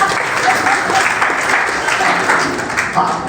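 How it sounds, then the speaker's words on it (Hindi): An audience at a Hindi literary gathering applauds in a steady, fairly loud wash of clapping from many hands that holds evenly for a few seconds with a faint murmur of voices. "ताली बजा दीजिए।"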